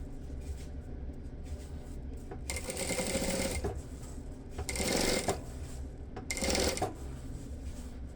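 A sewing machine stitches a zipper onto a bag in three bursts of fast, steady stitching, each a couple of seconds long, with quieter mechanical pauses between them.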